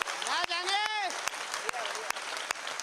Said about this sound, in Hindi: आपकी तालियां कमजोर है मेरे दोस्त।